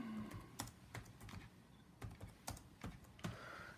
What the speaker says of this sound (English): don't laugh at me about my typing speed